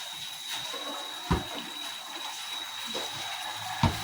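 Water running from a tap, a soft continuous hiss of flowing water, fairly quiet and close, with a couple of brief thuds breaking through.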